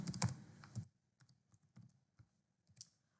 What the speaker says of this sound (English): now I'm improving, I'm typing faster